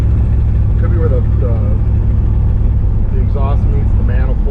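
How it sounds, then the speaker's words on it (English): A 1955 Chevrolet Bel Air V8 engine idles with a steady low rumble and a faint ticking, puffing exhaust note from an exhaust leak, while someone talks over it. "There's a little bit of an exhaust leak you can hear."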